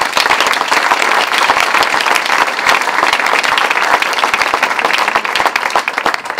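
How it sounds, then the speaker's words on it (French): Loud, dense applause from an audience at a regional political speech in Paris, a continuous close wash of many hands clapping that holds steady throughout with no talking. "qu'on peut applaudir bien fort"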